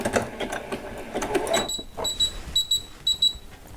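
Domestic sewing machine running a row of stitches on small doll socks, a close, steady mechanical whir with short bursts of rapid stitching separated by brief pauses.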